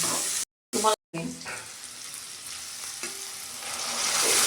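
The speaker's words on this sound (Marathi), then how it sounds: "याच्यामध्ये गरम करून घेतलेलं आपण पाणी घालणार आहे" Hot water poured into sautéed vegetable and chutney in a pan, a loud frying hiss that cuts out briefly twice, then settles into a softer bubbling sizzle that builds again toward the end, with no talking.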